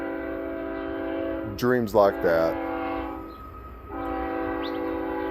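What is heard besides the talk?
train blowing its horn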